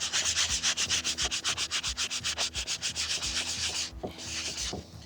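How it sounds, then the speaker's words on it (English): Rapid rhythmic scratching of sandpaper rubbed back and forth by hand over wood filler, close and steady, briefly pausing near the end before resuming. "it's ready for sanding already"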